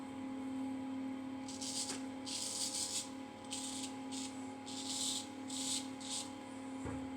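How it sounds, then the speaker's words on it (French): Fingers rubbing on an alum stone during a straight-razor head and beard shave, a soft dry scraping in a string of short bursts over a steady low hum, close and quiet. "je frotte mes doigts sur une pierre d'Alain"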